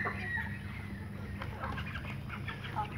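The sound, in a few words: Golden Fayoumi and Black Australorp chicks clucking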